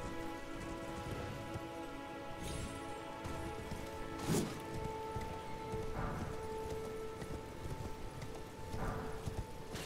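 Hooves of a horned horse clip-clopping in the Elden Ring video game, a steady, faint rhythm under a rain-like hiss and a continuous game ambience, with no talk.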